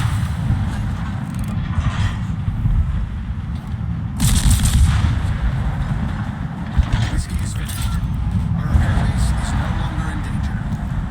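Naval gunfire in World of Warships, with repeated booming salvos and explosions mixed into busy game noise, heard under someone talking almost continuously.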